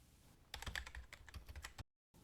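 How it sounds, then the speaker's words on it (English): Rapid keystrokes on a computer keyboard type a new file name, a quick burst of a dozen or so close, crisp clicks ending in a final key press before a brief silence. "Type in something new and press enter."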